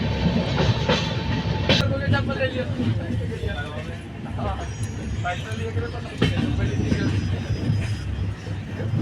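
A train runs steadily, heard from inside a crowded general coach on the Kolkata to Prayagraj route, a constant rumbling rattle with rhythmic clanks, as passengers chat throughout.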